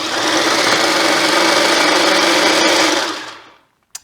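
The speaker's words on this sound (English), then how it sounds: "So now that we have all of those ingredients loaded into the food processor, I just want to give this a quick blitz" A food processor blitzing chipotle aioli ingredients with roasted garlic, a loud continuous high whirring motor that runs steadily for about three seconds, then winds down to silence with a final click.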